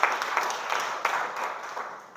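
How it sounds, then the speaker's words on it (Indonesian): Students in a classroom applaud a classmate with a steady patter of many hands clapping together, moderately loud and fairly even throughout. "tepuk tangan untuk teman kalian ya"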